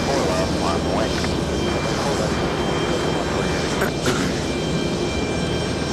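A heavy airliner takes off from runway 4 left at JFK, its jet roar a loud, steady wash with voices talking over it.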